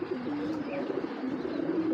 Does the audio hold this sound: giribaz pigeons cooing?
yes